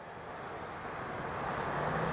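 A Freewing Banshee RC jet plane runs its engine at half throttle, giving a steady, loud, close rushing roar with a high whine that builds slightly, with no voices.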